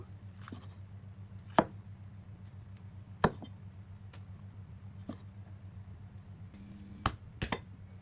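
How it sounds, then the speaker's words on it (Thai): A handful of sparse knife cuts slicing tomatoes on a cutting board, spaced a second or two apart, with a quiet hum in the background. "มะเขือเทศผมใช้สองลูกนะครับ เอามาหั่น"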